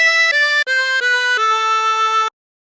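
Harmonica playing a short melodic phrase of the sea shanty Wellerman, played without bends: five clear held notes stepping downward, the last one sustained, solo and close with no talk.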